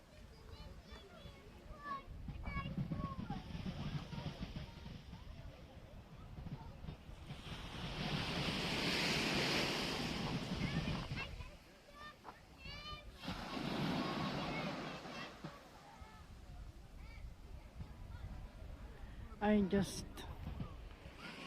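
Ocean waves wash onto the shore in slow surges, rising and fading twice, with wind buffeting the microphone throughout.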